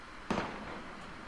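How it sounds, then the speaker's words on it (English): A single sharp gunshot crack from the Valkyria Chronicles video game, brief and moderately loud against a quiet background, followed by a faint echo. "Gunfire!"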